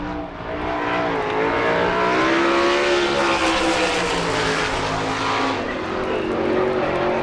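A sprint car, number 5R, howls around a speedway on an All-Star Circuit of Champions qualifying lap, its loud engine rising and falling steadily through the turns with no talk over it.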